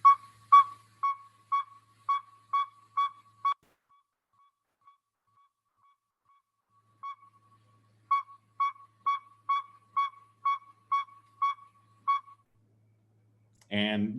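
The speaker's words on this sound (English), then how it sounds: "people call them the saw-whet owl because they thought that it sounded like sharpening a saw" A saw-whet owl, one of the smallest owls, gives a long series of evenly spaced, clear whistled toots, pauses in near silence, then repeats the steady series, with a brief voice at the very end.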